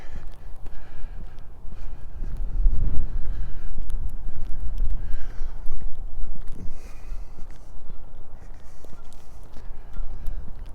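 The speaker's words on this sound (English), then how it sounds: "Slight angle away from the wind. Helps a lot." Low, rumbling wind buffets the microphone continuously on a cold, snowy April walk along a creek in Regina, with loud gusts throughout and faint footstep-like thuds underneath.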